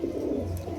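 A pair of Benaras Kaldam pigeons coo softly and continuously at close range, a low, steady murmuring throughout the short moment with no other sounds.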